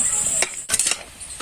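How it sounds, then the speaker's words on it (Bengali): Gulab jamun sweets made from wheat flour frying in hot oil: a short, bright sizzle broken by a couple of sharp scraping stirs of a utensil in the pan, with no talking. "এইভাবে করে আমি মিষ্টিগুলোকে ভেজে নেব।"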